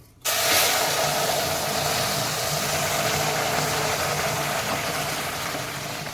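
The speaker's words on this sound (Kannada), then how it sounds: "ಸೊ ನಾನೀಗ ನೀರು ಹಾಕ್ತೀನಿ. ನಾನು ಕೆಟ್ಲಲ್ಲಿ ಬಿಸಿ ಮಾಡ್ಕೊಂಡಿದ್ದೀನಿ ನೀರನ್ನು." Hot water from a kettle is poured into a pan while cooking upma, starting with a sudden loud sizzling hiss that holds steady and close for several seconds with no talking.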